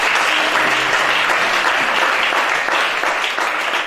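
A church congregation applauding, steady dense clapping throughout, loud and close, with no talking over it.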